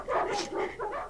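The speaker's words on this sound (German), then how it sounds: "Die Hunde sollen still" Dogs giving short yips and whimpering barks in a few quick bursts, close and fairly quiet, with no talk over them.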